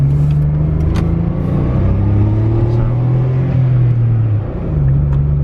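A turbocharged stock Honda Insight engine pulls hard in first gear through a corner, a loud continuous drone rising steadily in pitch, dipping briefly at a shift, then climbing again.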